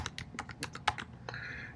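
Keystrokes on a computer keyboard come as a quick run of close, crisp taps, several in a row with short pauses between them, with no voices.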